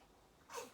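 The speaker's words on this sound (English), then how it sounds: "Those baby sneezes." A tiny, soft sneeze near the end of a quiet moment in a yoga class, brief and faint against low room hush.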